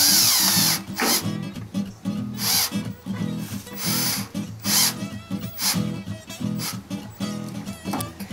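A power drill whirs in repeated bursts during a DIY rain barrel install, loud and close, with grinding, scraping bites into the material between pauses.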